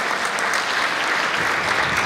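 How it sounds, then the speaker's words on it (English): Dense, steady applause from a dinner audience at a community unity dinner, a broad continuous wash of many hands clapping for the full stretch with no break. "Yes, deserves a round of applause."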